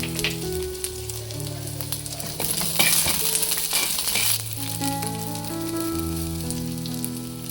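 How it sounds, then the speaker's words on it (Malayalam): Green chilies and curry leaves hit hot oil for a Kerala-style fish head curry with kudampuli, setting off a loud, bright sizzle that swells in the middle and then settles into steady frying with some stirring. "ഇനി ഞാൻ ഇടുന്നത് പച്ചമുളകാണ്, പിന്നെ കറിവേപ്പില."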